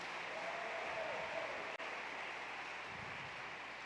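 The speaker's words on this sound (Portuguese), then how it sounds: "Aplauda o Senhor, dê um brado a Ele." A church congregation applauds during an evening family service, a faint, steady wash of clapping heard from a distance with no voices over it.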